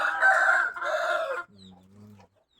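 A rooster crows in the morning at a farm in Lampang, Thailand, one loud, close crow in two strained phrases, trailing into a lower, softer clucking note before silence.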